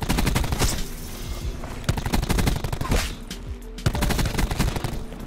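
Rapid automatic gunfire from Call of Duty Black Ops 4, loud close bursts of shots with brief pauses between them, several volleys over a few seconds.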